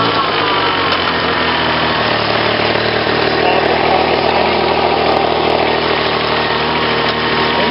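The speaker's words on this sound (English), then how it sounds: "Motor in reverse." A 1999 Honda BF40 outboard motor on a 1999 Rendova 12-foot yacht tender runs in reverse, giving a loud, steady close-up engine drone with no breaks.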